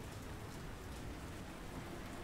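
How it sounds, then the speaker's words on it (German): Steady, dense rain pours continuously at a uniform loudness in a racing video game, with no talking heard. "Ja, der Regensound ist echt surreal."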